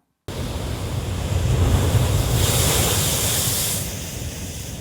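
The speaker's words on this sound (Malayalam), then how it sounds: "കൊല്ലത്തും ആലപ്പുഴയുടെ തീരത്തും ശക്തമായ കടലാക്രമണം" Heavy surf from a sea surge on the Kollam and Alappuzha coast of Kerala roars continuously, a broad rushing wash that swells to a louder crash midway and then eases, with wind buffeting the microphone and no voices.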